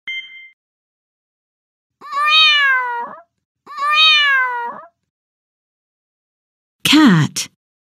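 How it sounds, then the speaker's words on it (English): A domestic cat meows three times in a row: two drawn-out, rising-and-falling calls close together, then a shorter, sharper meow after a pause, each one clear and close with silence between. "Cat,"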